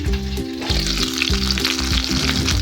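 Fish sizzles steadily in hot ghee in a covered pan, a dense, loud frying hiss with bubbling crackle running throughout.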